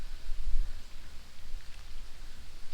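Rain falls steadily at a hill station in Kodaikanal, Tamil Nadu, a soft continuous hiss of drops on surfaces with gentle swells and no voices.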